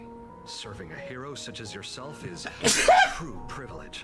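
A single sharp, loud sneeze bursts out during a Honkai Star Rail game cutscene, cutting through the middle of ongoing character dialogue.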